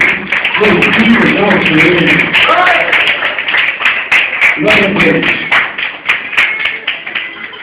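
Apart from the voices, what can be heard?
congregation applauding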